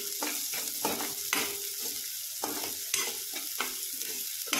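Chopped onion and garlic sizzle in oil in a pan, stirred with regular scraping strokes that rise briefly above the steady frying hiss.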